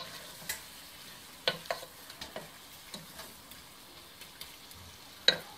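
Meat sweating in a pot for Austrian Reisfleisch, a soft steady sizzle with scattered sharp clicks and scrapes of stirring, close and fairly quiet with no voices.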